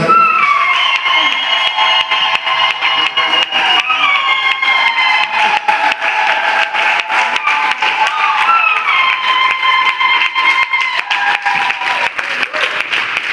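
A church congregation at a worship service claps in dense, sustained applause for over ten seconds, mixed with cheering voices and a rising tonal chorus of shouts and ululation.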